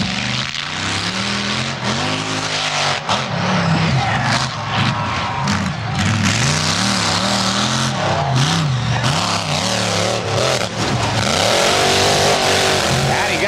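A 1979 Chevy S10 monster truck engine revs hard and continuously, rising and falling in pitch, loud and close over a roaring crowd at a monster truck event, with an announcer talking.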